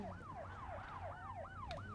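A wailing siren in a video game sweeps up and down in rapid repeating cycles, clear and continuous, heard over a low rumbling engine-like background.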